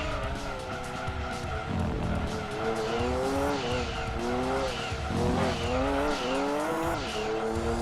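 A race car in Gran Turismo 2 spins its wheels with a droning, rising and falling engine and sustained tire squeal as it slides through oversteer, loud throughout, with faint talk underneath.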